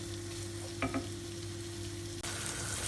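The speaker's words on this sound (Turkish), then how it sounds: "Biraz kavuralım bunu." Vegetables and bulgur sautéing in a pan for a tomato pilaf, a constant close sizzle over a low hum, with two quick clinks of a utensil midway.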